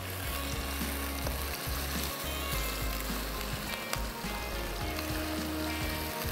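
Fish sizzles in a hot pan as it fries for a jalfrezi, with a constant loud crackling hiss and a low rumble underneath, with no one speaking.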